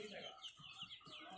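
Young hill-breed chickens and roosters on a small farm cluck in short, faint, repeated bursts at a low overall level.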